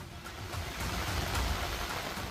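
Heavy monsoon rain falling during floods in Nadiad, Gujarat, a dense, steady hiss of downpour on surfaces with a low rumble beneath, constant throughout and moderately loud.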